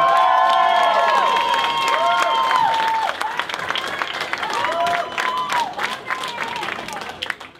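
Loud applause and cheering from the crowd at a Ronin Fight League fight event, with scattered shouts and whistles over steady clapping that eases slightly after a few seconds but continues to the end.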